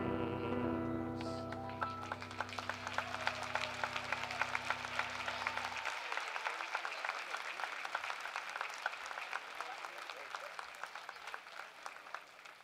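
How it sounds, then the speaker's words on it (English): A crowd applauds at a December 2017 university commencement ceremony. A sustained musical chord fades out first, then steady, even clapping carries on for about seven seconds at a moderate distance. "Let's give Marcel another round of applause for that."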